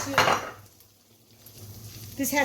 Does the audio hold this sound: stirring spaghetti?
yes